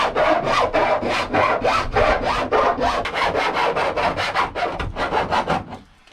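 A metal file scrapes back and forth over the sharp edges of a window cutout in a Citroen Relay van body, about a dozen quick rhythmic rasping strokes up close before stopping.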